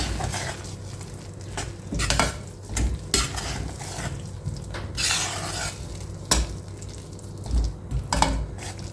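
Methi chaman curry with cashew paste and garam masala being stirred in a pan: a spoon scrapes and clanks against metal in irregular knocks over a soft background sizzle.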